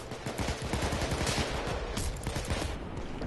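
Dense, rapid gunfire from a Payday 2 shootout crackles nonstop at steady close range, overlapping shots forming a continuous fusillade with no voices breaking through.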